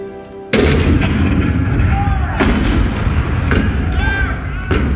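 Cannon fire rings out during the Hall of Presidents show at Disney World's Magic Kingdom: a sudden loud blast opens a continuous rumbling barrage of booms and bursts that stays heavy and close throughout.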